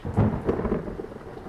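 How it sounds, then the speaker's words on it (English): A deep rumble of thunder rolls through steady rain, loud and close at first, then easing into a lingering grumble. "There was a bright flash of lightning followed by a loud crack of thunder."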